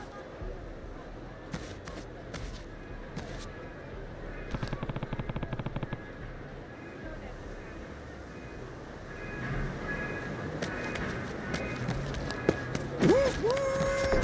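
Train passing by in the video game Like a Dragon: Infinite Wealth, a long rumbling pass with rattling clatter and bursts of rapid clacks, under city ambience, ending with a short rising tone.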